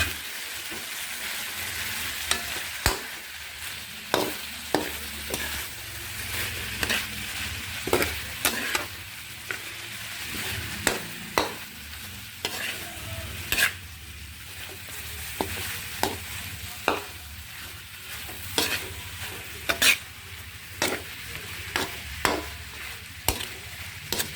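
Beef for Bisaya-style paklay is stirred and mixed in a hot pan, with a continuous sizzle under sharp, regular clanks and scrapes of the utensil against the pan, close and fairly loud, with no voices.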